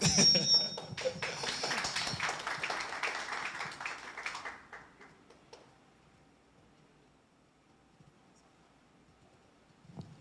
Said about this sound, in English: another big round of applause for that one